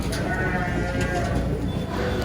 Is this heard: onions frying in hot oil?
no